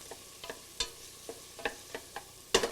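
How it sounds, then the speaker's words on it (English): Onion fries quietly in a pan for a quick risotto while a spoon stirs it, giving a soft sizzle broken by a run of sharp scrapes and taps. "Another stir on our onion here."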